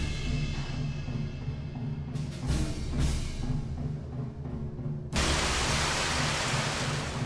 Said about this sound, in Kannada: ದಾರಿಯೇ ಕಾಣದಂತೆ ಸುರಿತಿರೋ ಮಳೆ